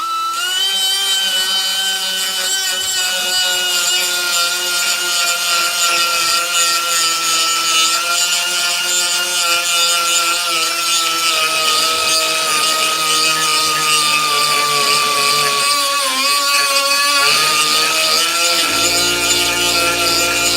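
A power tool grinds out spot welds on the inner rocker panel of a Crew Cab Dodge Coronet, a loud continuous high whine with slight shifts in pitch that changes abruptly near the end.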